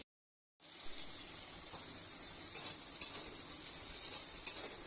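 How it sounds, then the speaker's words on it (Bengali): Steady, close sizzling of chickpeas frying in a pan that begins abruptly after a brief silence, a continuous bright hiss with faint crackles. "এইভাবে একবার ছোলা ভেজে দেখো বন্ধুরা"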